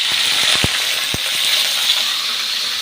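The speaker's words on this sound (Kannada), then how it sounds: "ಈಗ ಕೋಕೋನಟ್ ಮತ್ತು ಹಸಿಮೆಣಸು ಎಲ್ಲ ಚೆನ್ನಾಗಿ ಆಯಿಲಲ್ಲಿ ಫ್ರೈ ಮಾಡ್ಕೊಳ್ಳೋಣ" Coconut and green chilies fry in a couple of tablespoons of oil, a steady close sizzle with a few sharp clicks from a spoon against the pan.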